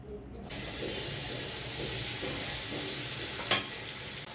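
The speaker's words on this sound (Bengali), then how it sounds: "কড়াইতে আবারও একটু তেল দিয়ে আমি পনিরগুলোকে লবণ হলুদ একটু মাখিয়ে নিয়ে" Paneer pieces coated with salt and turmeric fry in oil in a kadai, giving a steady, close hiss of sizzling with one brief sharp spitting burst partway through.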